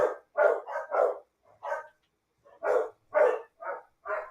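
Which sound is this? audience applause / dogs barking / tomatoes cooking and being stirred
dogs barking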